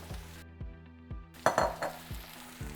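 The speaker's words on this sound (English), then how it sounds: "Now I'm gonna add in our pureed tomato." Pureed tomato is poured into a pan of frying onion and garlic, bringing a brief loud splash and hiss amid a steady sizzle, with light clinks of a utensil against the pan and no talking.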